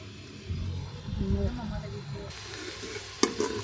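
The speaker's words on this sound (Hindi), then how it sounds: "उसी घी में मैंने प्याज ऐड कर दिया है। ठीक है, इसको हल्का सा लाइट ब्राउन करेंगे।" Sliced onions fry in hot ghee in a pan with a soft, steady sizzle and a few stirring scrapes. A voice talks over the cooking.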